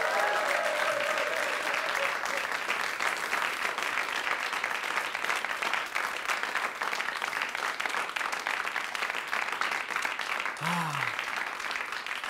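A television studio audience at a German comedy show applauds steadily for about twelve seconds, a dense, even wash of clapping that stays loud throughout.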